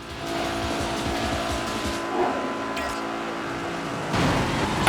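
Cars race in the video game Midnight Club 3: DUB Edition Remix, including a Corvette, with a steady engine drone, tire noise and a brief squeal near the end, continuous and fairly loud.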